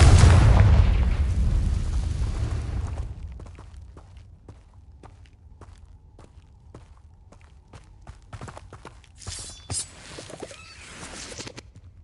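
A Confringo fire spell bursts with a deep booming explosion in the Hogwarts Legacy video game, loud at first and rolling away, followed by scattered footsteps and small pops.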